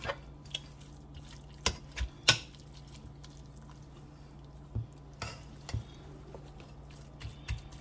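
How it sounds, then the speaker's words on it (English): A marinade made with Sunny D orange drink is stirred in a bowl: quiet wet swishing broken by scattered spoon clicks and taps against the side, heard close and alone with no talking. "So I'm going to be stirring this up."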